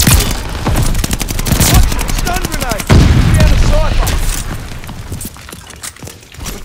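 Mortar and gunfire in a multiplayer shooter match, a dense close barrage of rapid shots and heavy booming impacts that continue through the whole stretch and ease off toward the end, with voices partly audible under the noise.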